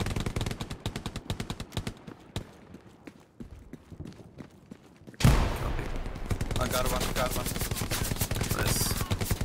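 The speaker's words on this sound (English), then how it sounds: "Machine gun behind that wall." Machine gun fire in the Hell Let Loose shooter, first a string of sharp rapid bursts with gaps, then a louder sustained stretch of dense automatic gunfire mixed with battle noise and faint voice chat.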